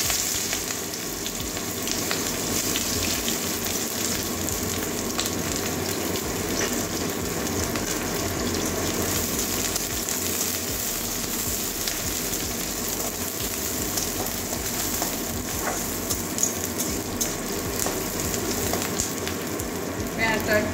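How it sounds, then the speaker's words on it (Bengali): Chopped onion and green chillies frying in oil, a dense, loud, continuous sizzle like rain on a surface that holds steady throughout. "পেঁয়াজটা একটু ভেজে নেবো কাঁচা গন্ধ যাওয়া পর্যন্ত"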